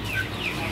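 Javanese KUB laying hens clucking in a farm coop, a steady low murmur of several birds close by with no talk.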